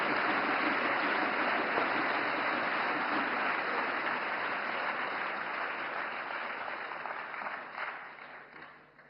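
A large audience claps in a hall at Vigyan Bhawan, New Delhi, during the Navkar Mahamantra Divas inauguration. The dense, steady applause runs for several seconds before tapering off near the end.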